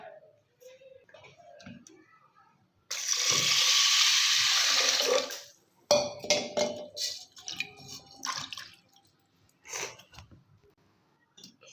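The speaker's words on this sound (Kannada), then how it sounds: "ಇವಾಗ ನೀರು ಹಾಕೊಳ್ಳೋಣ." Water pours into a pressure cooker holding washed horse gram, a steady rushing splash lasting a few seconds between clicks and clatter of kitchen handling.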